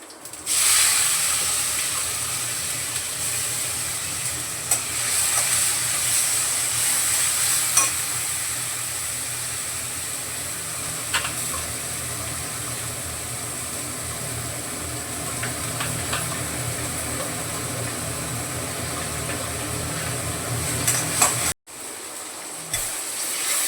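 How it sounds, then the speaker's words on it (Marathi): Onion and tomato sautéing in a pan with garlic, giving a continuous, even hiss of frying with occasional faint scrapes of stirring, dropping out briefly near the end. "कांदा टमाटा बारीक परतून घेते चांगला टाकून"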